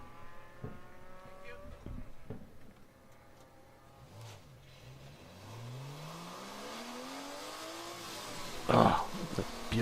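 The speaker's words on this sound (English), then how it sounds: "Oh, it's a beautiful Porsche Boxster engine." Porsche Boxster engine in a race car at a Sebring endurance race, revving and accelerating as it pulls away toward pit out, a rising engine sweep with tire noise and a sharp burst near the end amid ambient track noise.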